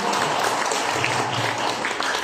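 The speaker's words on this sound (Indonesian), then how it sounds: "Tepuk tangan dulu dong teman-teman sore ini." Applause from an audience at an afternoon discussion session, a steady dense wash of clapping that holds evenly for a couple of seconds with no break.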